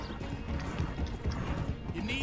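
A horse gallops in Red Dead Redemption 2 while chasing alongside a train, with dense rhythmic hoofbeats under a steady rumble of game noise and mixed effects.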